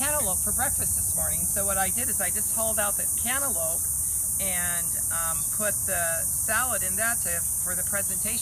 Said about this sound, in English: and the cicada bugs are going crazy right now.